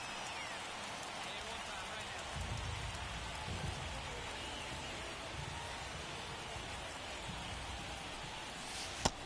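Steady hiss of rain in a PS4 baseball video game, an even wash of falling drops throughout with a sharp crack near the end, while commentators talk over it.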